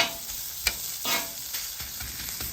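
Fatty pork sizzles steadily on a hot griddle, a close, continuous hiss broken by a few scraping stirs and one sharp tap.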